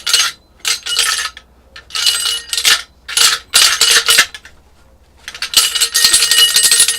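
A loose metal object, something like a key or nut, rattles inside the removed muffler of a Honda CBR 600 F4 motorcycle. Close, bright metallic clinking comes in several shaken bursts separated by short pauses.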